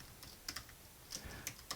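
Someone types on a computer keyboard nearby, a short run of faint, irregular key clicks.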